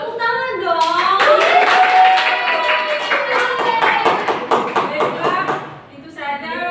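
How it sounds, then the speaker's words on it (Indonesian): A classroom group claps after a fried rice recipe presentation during a micro-teaching lesson, a steady patter of hand claps running for several seconds under overlapping voices and chatter before fading out. "Tepuk tangan dong."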